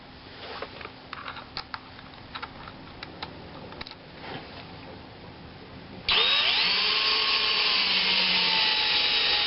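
Intermittent rubbing and scraping at first, then a loud, steady high-pitched whine of a power drill driving lag bolts into a wooden raised garden bed, running continuously for several seconds, close by.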